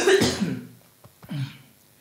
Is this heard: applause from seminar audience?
no